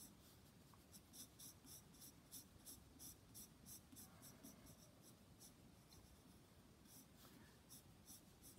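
A B-grade graphite pencil shades a drawing of an eagle in flight on paper, quiet rhythmic scratching strokes in short repeated bursts, close and faint, with a brief pause partway through.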